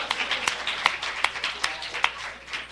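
Audience at an anniversary celebration gives a spread of clapping, with individual claps standing out rhythmically above a steady, moderate applause wash from a room of people.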